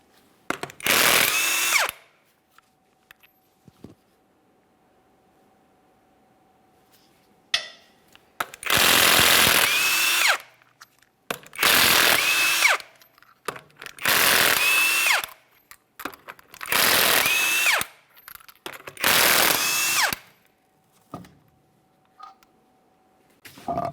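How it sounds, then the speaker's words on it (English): A power tool removes the 22mm lug nuts from a GMC Acadia rear wheel. About six loud, separate bursts of whirring and rattling are heard, each lasting one to two seconds, with quiet gaps and a faint steady hum between them. "we're going to continue on to removing all 6 of our 22mm lug nuts and then the wheel"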